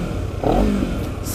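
A Honda CBR250RR parallel-twin with a slip-on muffler revs in Sport Plus mode, giving one short, sharp throttle blip that rises and falls over a steady rumbling idle.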